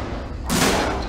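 Gunfire erupts in the video game Alien: Isolation, a sudden loud burst of shots that cuts in halfway through, near and harsh over a low rumbling background.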